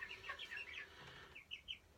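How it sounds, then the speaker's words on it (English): Chickens cluck in short, faint bursts inside a hot chicken coop, a few quick calls scattered through the two seconds with nothing else around them. "I am actually inside a chicken coop"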